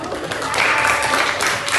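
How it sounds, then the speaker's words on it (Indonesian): Classroom applause from students for a group, a steady wash of clapping at fairly even loudness throughout, without gaps. "Tepuk tangan buat kelompok 2."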